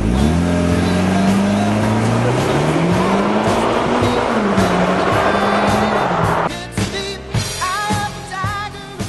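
A Mitsubishi Lancer Evo X with a dual-clutch gearbox driven hard, engine roaring and shifting while tires squeal at length, then the car settles into choppier bursts of engine noise and scrubbing, loud and close.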